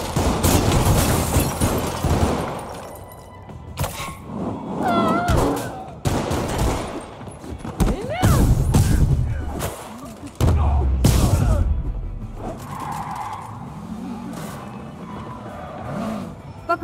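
Gunfire in a Spider-Gwen action video game, bursts of shots among whooshes, impacts and a busy game soundtrack, with character voices shouting between them.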